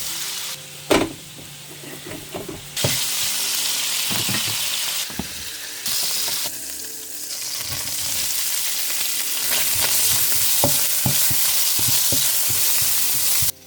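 Fried rice with butter and seasoning sizzles loudly in a pan, a steady close frying hiss broken by short pauses and repeated scraping stir strokes, with no speech.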